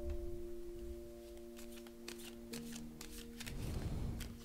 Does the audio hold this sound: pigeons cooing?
no